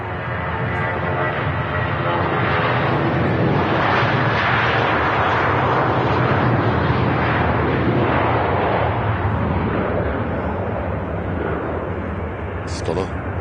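A Lufthansa airliner rolls for takeoff at Manchester Airport, its engines making a loud, steady broadband roar that holds for the whole stretch while people talk over it.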